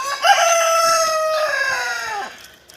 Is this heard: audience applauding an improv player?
no